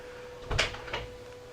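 A drawer on a Grady-White Canyon 386 boat sliding open or shut, a short pair of close wooden-plastic knocks about half a second apart against a quiet background with no talk.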